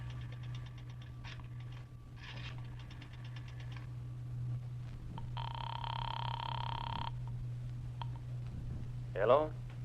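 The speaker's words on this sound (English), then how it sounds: "dropped a nickel in the slot, and dialed" A coin payphone in an old radio drama is dialed with rapid clicking pulses, then a long ring tone sounds against a steady low hum, followed by a brief voice at the end.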